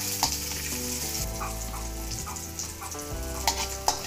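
Close, continuous sizzling of garlic sautéing in a pan for adobong pusit, steady crackle with a few louder pops, while music plays underneath.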